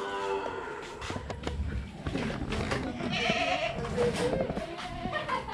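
Goat bleating on a farm in Quezon Province, with several wavering animal calls over a busy outdoor background of rustling and farm noise, moderately close.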